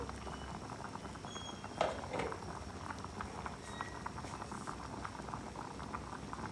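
A pot of cassava boiling with salt, a faint steady bubbling and patter that runs throughout with one slightly louder splash early on.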